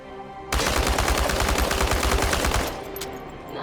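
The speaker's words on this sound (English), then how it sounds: "Ready? Commence firing." Rapid automatic gunfire in the video game Chernobylite, one loud continuous burst of dense repeated shots lasting about two seconds, then a fading echo.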